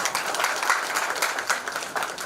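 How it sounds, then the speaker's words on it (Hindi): Audience at an Urdu mushaira poetry gathering applauding, dense continuous clapping from a crowd, fairly close and steady throughout. "एक मर्तबा आप अपने ही लिए तालियां बजा दे दोस्तों।"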